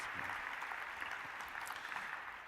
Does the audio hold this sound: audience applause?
yes